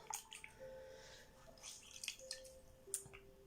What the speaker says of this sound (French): Je vais venir rincer ça à l'eau claire, tout simplement.